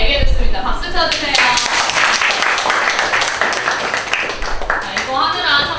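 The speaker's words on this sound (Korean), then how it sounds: "박수 쳐주세요." A classroom of students claps for a classmate, a bright burst of hand claps that swells and then tapers, with a teacher's voice speaking over it at the start and end.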